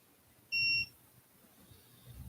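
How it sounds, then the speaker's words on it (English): A timer gives a single short electronic beep, clear and fairly loud against a quiet room background. "Oh no, my timer shut off."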